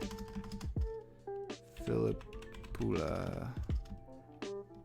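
Typing on a computer keyboard while entering a hockey player's name in an online quiz, brief bursts of key clicks heard close up between stretches of talking.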